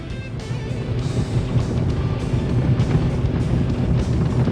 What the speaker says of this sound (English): Oh, hear how lumpy that is. That's not going to last long. Engine 1 really not happy.